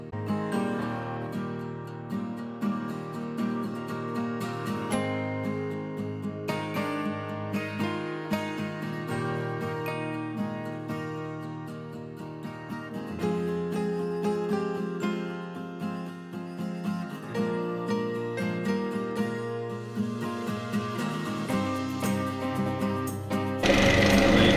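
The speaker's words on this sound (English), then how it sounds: "I think I'm going to sand that all up first" A wood-turned piece spinning on a lathe is sanded in a steady, close whirring drone with a grainy rasp that runs continuously for the whole stretch, swelling slightly toward the end.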